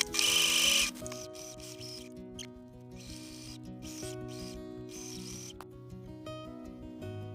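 A sewing machine stitching a quilt binding down in the ditch. One sharp burst opens, then a steady, close mechanical clatter of rapid stitches runs unbroken.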